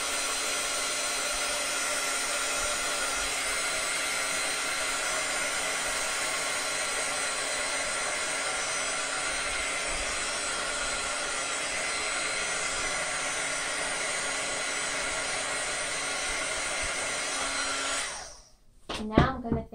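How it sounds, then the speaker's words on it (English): Heat tool blowing steadily on mixed media mark making to dry it, a loud, even whirring hiss that runs unbroken for about eighteen seconds and then cuts off with a short clatter. "I'm going to dry my mark making real quick"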